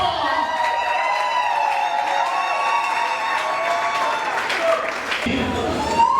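A crowd of wedding guests claps and cheers loudly and steadily for a few seconds, with whoops and shouts over the applause and a voice heard near the end.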